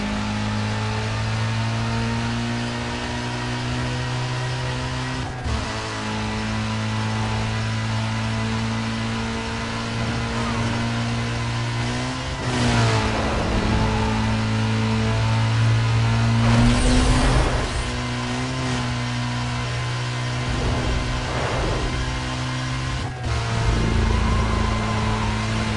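Car engine in a Need for Speed Most Wanted circuit race, droning steadily at high revs throughout with rising and falling pitch as the car accelerates and shifts, plus brief bursts of tire and impact noise, loud and continuous without talk.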